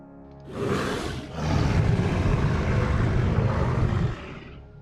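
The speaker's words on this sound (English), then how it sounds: "hear the calls for the Rugops, which is an upcoming carnivore" A deep, rumbling Rugops dinosaur roar from the video game The Isle Evrima swells in after a brief lead-in, holding loud and rough for a few seconds before cutting off.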